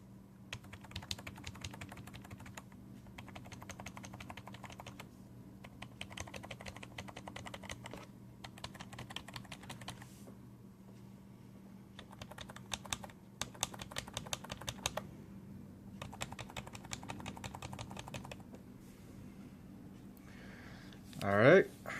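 Media keys on a Cooler Master Storm Devastator keyboard are pressed in repeated bursts of quick clicky taps separated by short pauses, close up, with a steady low hum underneath.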